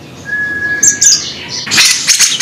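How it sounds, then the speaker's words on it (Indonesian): A yellow-fronted canary chirps up close, with sharp high tweets and a short whistle, then a denser burst of bright calls. "Dari burung Mozambiknya udah deket nih."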